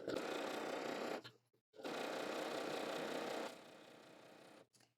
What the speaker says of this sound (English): I'm going to stitch 1 inch from the other side